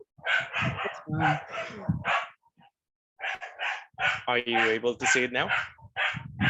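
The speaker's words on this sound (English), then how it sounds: "And I'm so sorry for the dogs barking there outside." Dogs bark outdoors in the background, mostly hidden beneath a person speaking close to the microphone throughout.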